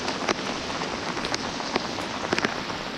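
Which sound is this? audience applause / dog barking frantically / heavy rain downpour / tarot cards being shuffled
heavy rain downpour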